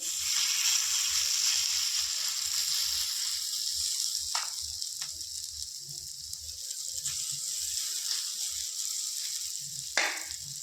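Bread breakfast batter sizzling in ghee on a hot griddle, a steady close frying hiss with occasional clicks and scraping sounds of a utensil.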